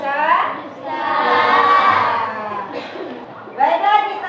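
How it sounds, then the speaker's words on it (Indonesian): Primary schoolchildren in a classroom cheer together in loud, sustained group shouts, rising and falling in two or three waves, with an adult voice briefly present. "kita bersorak semangat"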